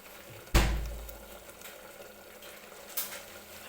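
Tomato puree frying in oil in a home kitchen pan: a soft, steady sizzle, broken by a sharp clank of a utensil near the start and a second, smaller knock later on.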